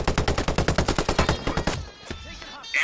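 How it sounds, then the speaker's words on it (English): Rapid automatic gunfire in the battle royale video game PUBG, about fifteen sharp shots in a fast steady burst, loud and close, stopping abruptly and followed by a quieter tail. "Gunfire."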